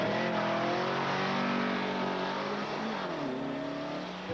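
An old Karmann Ghia fitted with a new engine races on the street, its engine loud and close with a sustained roaring drone whose pitch climbs and shifts as it accelerates.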